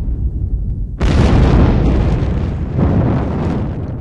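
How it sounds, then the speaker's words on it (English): A dramatic supernova explosion of a star rendered as a sudden loud, deep boom after a quiet second, followed by a sustained roaring rumble that stays strong to the end. "On rare occasions, a star may end its life in a dramatic explosion."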